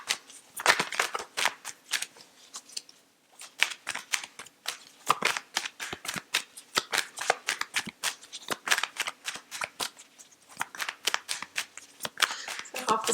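Tarot cards are shuffled by hand in rapid, crisp riffling bursts, close and clear, with short pauses between runs of snapping card noise.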